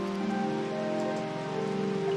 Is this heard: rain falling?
yes